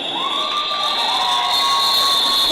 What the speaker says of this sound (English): Big cheer there from Medical Emergency's teammates.